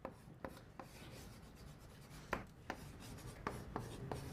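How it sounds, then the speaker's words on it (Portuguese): Marker or chalk writing on a board during a math lesson on derivatives: soft rubbing strokes with a few sharper taps, close and fairly quiet, with no talking. "Então eu vou escrever assim."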